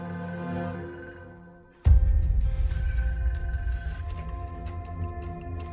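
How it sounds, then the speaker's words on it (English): A house telephone rings after midnight. A sudden loud onset gives way to a sustained, metallic ringing that gradually softens, with no voices. "the phone rings at his daughter Pam's"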